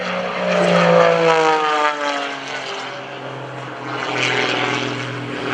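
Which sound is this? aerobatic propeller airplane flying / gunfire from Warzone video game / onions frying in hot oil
aerobatic propeller airplane flying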